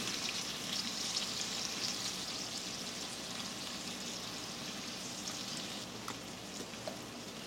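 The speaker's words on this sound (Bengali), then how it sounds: "মেটেটা 1 মিনিট মতো নাড়াচাড়া করে মিক্স করে নিলাম" Goat liver frying over high heat in a pan, a steady, fairly quiet hiss of sizzling oil with a couple of faint stirring clicks near the end, no talking.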